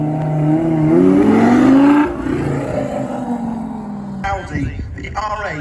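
A Lamborghini Superleggera at a classic car and supercar show at Sherborne Castle gives a loud, rising engine rev that drops off after two seconds, followed by a lower idle burble with crowd chatter around it.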